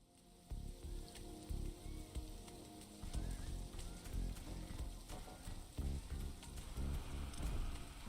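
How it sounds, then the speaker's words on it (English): Steady rain pours down in an alien world base-building strategy game, a dense continuous hiss with rumbling low-end texture, loud and even throughout with no speech over it. "It's raining. It will decrease the output from solar panels until it stops."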